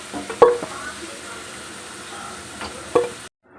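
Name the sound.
fried potatoes being lifted out of hot oil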